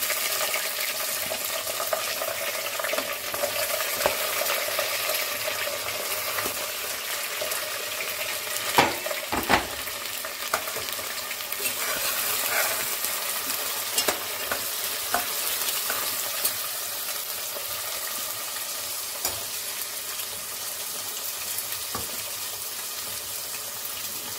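Onions and curry leaves fry in a pan and are stirred, giving a steady, loud sizzle with intermittent scraping and stirring clatter throughout, no voices.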